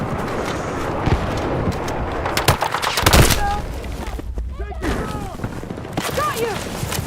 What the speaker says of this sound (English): Taking effective fucking fire.